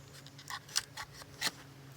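Scissors snip through twisted binder twine rope in a few quiet, sharp cuts, close by with no talking.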